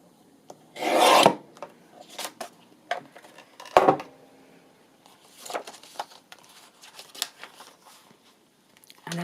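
Edge of a handmade journal cover being trimmed, with several rasping, scraping strokes of varied length separated by pauses and small rustles, close and clear without speech.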